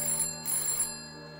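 A telephone rings in bursts of bright electronic trill, two short rings close together then fading, loud and near, with no talking over it, during a night sky watch near Stonehenge.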